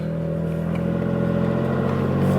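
A third-generation Toyota Tacoma with a new exhaust revs loud and close, giving a steady, aggressive, deep rumble that climbs slightly toward the end.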